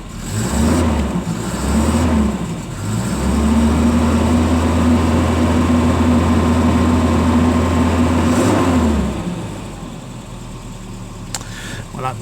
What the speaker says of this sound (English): You can see how easily that started, and that's from ice cold.